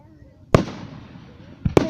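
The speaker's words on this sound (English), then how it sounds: "Columbus fireworks are amazing." Fireworks launched from a boat over a river go off in sharp booms, one loud burst followed by two more close together, with a faint crackling tail in between.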